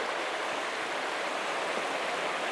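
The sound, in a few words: river flowing next to a mountain cabin porch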